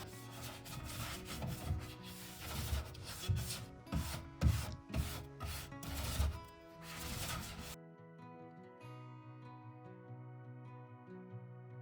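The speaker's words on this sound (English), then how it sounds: "I'm just coming back with a rag and wiping off the excess wax" A rag rubs excess white wax off a painted piece of furniture in a French country style finish, with steady, close wiping strokes for about eight seconds before soft music carries on alone.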